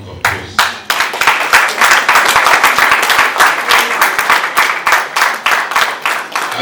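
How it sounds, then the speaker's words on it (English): Sustained applause from an audience at a local government budget retreat, many hands clapping loudly and steadily for several seconds after a brief opening burst. "give him another round of applause"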